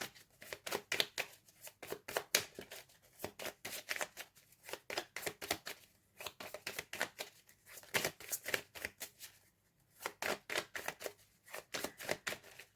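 Tarot cards being shuffled and drawn up close, a fast run of crisp riffling bursts in repeated clusters separated by short pauses, with no voices.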